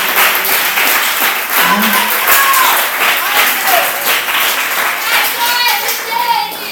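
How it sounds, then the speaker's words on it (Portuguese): Lively audience applause with clear individual hand claps in a church-style gathering, mixed with scattered voices and a child's chatter; loud and near throughout, with brief whistles or calls rising above the clapping. "uma salva de palmas para o nosso irmão"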